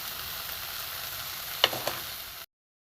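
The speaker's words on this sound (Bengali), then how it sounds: "কালো জিরে দিয়ে একটু নাড়ানাড়ি করি।" Nigella seeds sizzling in a pan for thor bata, a banana-stem paste dish, as a soft continuous fry, broken by two quick spatula clinks from stirring before the sound cuts off abruptly.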